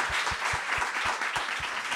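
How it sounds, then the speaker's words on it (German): An audience at a panel talk claps, a steady, lively wash of many hands close by, with a few heavier beats showing through, running through the whole moment with no talk over it. "Bitte noch einmal einen Applaus."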